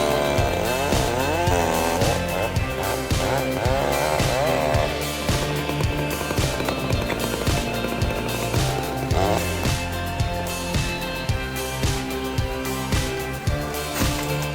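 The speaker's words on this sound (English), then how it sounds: "a challenge to take down an old cedar with a not-so-small chainsaw" A chainsaw roars continuously at close range, its engine pitch rising and falling as it bites through the large trunk of an old cedar tree, with no voices.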